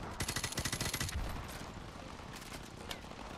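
Rapid automatic gunfire in the video game Call of Duty Modern Warfare Remastered: a quick burst of regular shots lasting about a second, fairly faint, then a steady low background din.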